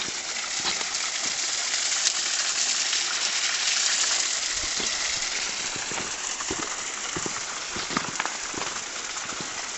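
A small stream, known locally as Lena Bay or Lena Vai, runs toward the River Derg with a constant, close rushing wash broken by scattered splashes and drips, with no talk.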